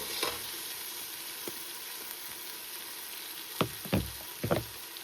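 Onion, cinnamon and black pepper fry in a pan for chicken madhooth: a quiet steady sizzle, then a few close spatula knocks and stirring scrapes toward the end, with no talking.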